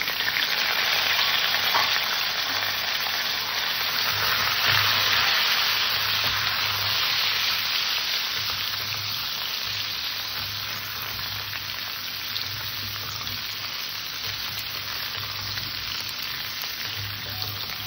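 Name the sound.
bottle gourd pieces frying in oil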